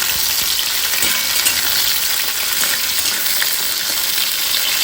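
Cauliflower florets frying in hot oil in a home kitchen pan, a steady loud broadband sizzle that holds evenly throughout with faint occasional crackles and no voices.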